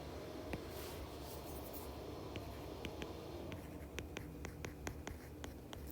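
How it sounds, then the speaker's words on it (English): Marker or pen writing on a board while working chemistry practice problems, a quiet series of short scratchy strokes that quicken toward the end, close and faint over soft room hiss. "And I'm going to write that underneath here."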